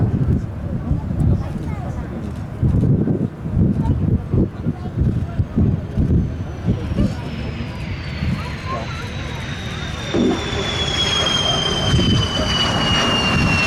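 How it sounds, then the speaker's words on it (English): A Royal Danish Air Force F-16 Fighting Falcon jet comes in to land at an airshow, a loud rushing roar whose whine sweeps downward in pitch as it passes, heard under a commentator's talk. "To land. F-16 Fighting Falcon from the Royal Danish Air Force."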